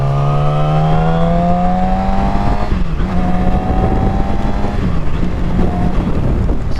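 Yamaha R6 sport motorcycle engine at speed with a choppy throttle, a loud steady whine climbing in pitch then holding near 5,000 rpm, a brief shift dip midway, wind rush throughout.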